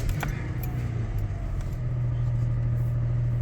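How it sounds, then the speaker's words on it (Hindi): A car with a CVT transmission idles with a low, steady engine rumble after a brief clatter at the start, the hum holding close and constant. "गाड़ी करते हैं स्टार्ट।"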